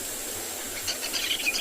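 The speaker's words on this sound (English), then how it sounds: "You can hear the Jacobin cuckoo." Jacobin cuckoo calling overhead on a sunrise safari, several faint, short whistled notes toward the end over steady outdoor background hiss.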